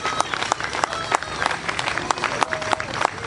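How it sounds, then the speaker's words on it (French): A crowd at a political rally in support of Viktor Orban applauds, with sharp individual claps and scattered cheers over a busy murmur and some voices, moderately loud and uneven. "Nous pouvons l'applaudir."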